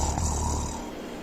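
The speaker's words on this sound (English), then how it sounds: "to snore" A person gives a single short, low rumbling snore, close and fairly loud, with no talking.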